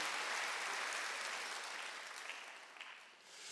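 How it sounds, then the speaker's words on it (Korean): A church congregation applauds during a Sunday worship service, a broad, even wash of clapping from many hands that fades slightly toward the end. "박수."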